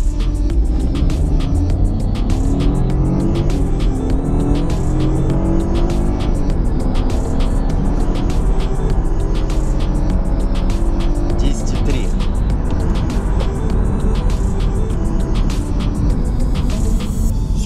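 A BMW F30 318i with 136 hp accelerating hard from 0 to 100 in sport mode, engine loud and continuous from inside the car, rising in pitch through repeated gear changes.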